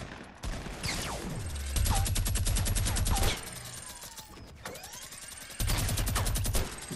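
Fortnite minigun firing in sustained rapid bursts, a dense buzzing rattle that spins up, stops and starts again across several stretches, loud and close with brief quieter gaps.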